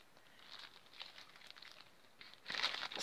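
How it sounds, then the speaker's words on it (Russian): Soil is poured into a small plastic zip-lock bag while potting tomato seedlings, giving soft, close patter and crinkling that swells louder near the end, with no voices. "Я насыпаю на дно пакетика землю."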